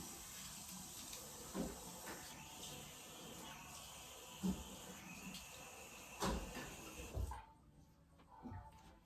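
Tap water runs steadily while someone washes their face at a sink, with a few splashes and brief handling knocks before the flow stops near the end.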